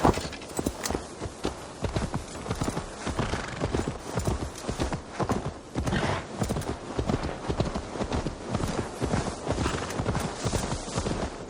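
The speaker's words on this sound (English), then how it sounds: "Now to deliver Magni his horse" Horse hooves clip-clop steadily in Assassin's Creed Valhalla as a mount is ridden to deliver it, a dense, continuous rhythmic clatter of hoofbeats throughout, close and loud, with faint occasional game sounds beneath.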